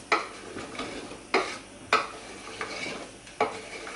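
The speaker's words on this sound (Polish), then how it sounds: "Do miękkiego mięsa dodajemy paprykę i cukinię i będziemy gotować około 20 minut." Meat with peppers and zucchini cooks in a pot, a soft sizzle under a handful of sharp stirring clinks and scrapes of a utensil against the metal, close and without talking.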